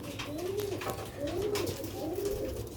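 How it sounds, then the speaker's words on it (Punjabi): Sialkoti Ali wale pigeons coo in repeated soft, rolling calls, a few in quick succession, close by against a low background rumble. "ਦੇਖੋ ਮਾਸ਼ਾਅੱਲਾ ਅਲੀ ਵਾਲੇ ਕਬੂਤਰ ਸਿਆਲਕੋਟੀ।"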